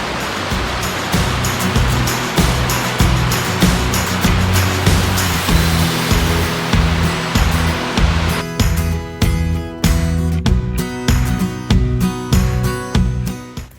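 A waterfall in the Great Smoky Mountains fills the first half with constant roaring rush beneath rhythmic music with a steady beat, then the water fades and the music carries on alone.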